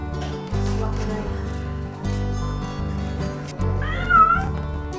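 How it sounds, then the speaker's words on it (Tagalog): A cat meows close by, a rising and falling cry near the end, over a steady rhythmic music track with a low thumping beat. "Nakakainis talaga ang pusang yan."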